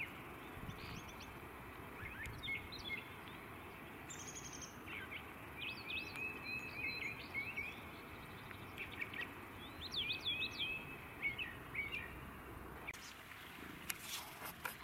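A brown thrasher sings repeated short, high-pitched phrases mimicking other birds over a steady outdoor hiss, varied chirps and whistles coming in bursts at moderate distance.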